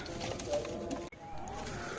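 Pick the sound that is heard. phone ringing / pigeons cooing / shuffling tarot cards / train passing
pigeons cooing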